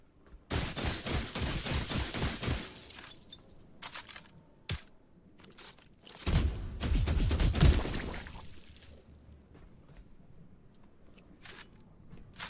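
Shotgun firing in The Last Caretaker video game, a rapid series of loud blasts in two clustered volleys with a few isolated shots between, separated by quieter gaps.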